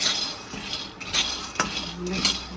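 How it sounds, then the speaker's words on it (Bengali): Raw peanuts stirred in a pan while roasting for peanut laddu, a utensil scraping and clinking against the metal in a few distinct strokes over soft background noise, no voices. "একটু নেড়ে চেড়ে ভেজে নেব"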